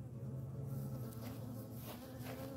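Honey bees swarm around a yellow hive fitted with a queen excluder, a dense, steady buzz of many insects close by that holds without a break and has no talking over it.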